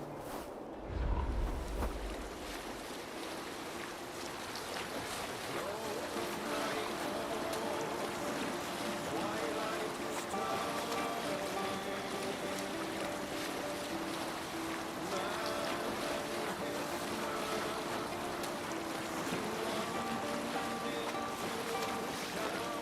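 A Viking longship sails across open water in Assassin's Creed Valhalla, with a steady, unbroken wash of water and wind continuing at an even level from start to finish.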